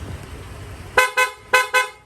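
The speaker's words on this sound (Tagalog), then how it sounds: "pa-activate naman lang loud horn" A loud aftermarket horn on a Honda Click V3 motorcycle honks four times in two quick pairs, sharp and close, after a short stretch of quiet.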